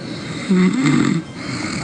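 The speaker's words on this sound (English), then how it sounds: "let's get back to the snoring" One loud, rough snore drawn in near the microphone, a low rattling rumble lasting under a second, over faint background noise.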